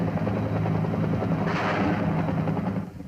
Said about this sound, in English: Gunships attempt to suppress enemy fire with miniguns and rockets.